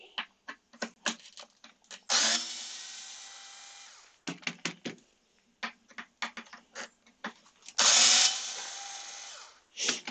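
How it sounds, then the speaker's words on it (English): A power drill backing screws out of a Traxxas X-Maxx RC truck: two sustained whirring bursts of about two seconds each, separated by stretches of quick clicking and tapping from handling the parts nearby. "Gotta take these screws out."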